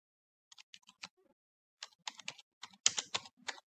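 Typing on a computer keyboard while writing a first Python program: bursts of crisp, close key clicks, a few scattered taps and then a denser run of irregular keystrokes, with no voices.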